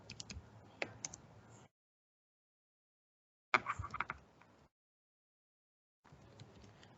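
Typing on a computer keyboard while entering a contact's name into a C-language contact management program, heard as two short bursts of close, crisp key clicks separated by silent gaps.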